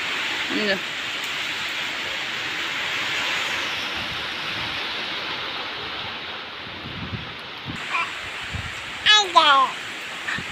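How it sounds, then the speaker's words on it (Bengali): Rain and wind from Cyclone Remal pour down in Dharmanagar, North Tripura, a continuous hissing wash of falling water that stays even and moderately loud, with a few brief voices breaking in near the end. "প্রচুর পরিমাণে বাতাস হচ্ছে বৃষ্টি হচ্ছে"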